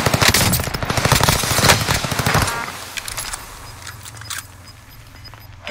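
Rapid gunfire in a battle royale video game: a dense burst of automatic shots for about two and a half seconds, then a few scattered, fainter shots and clicks over quiet game ambience.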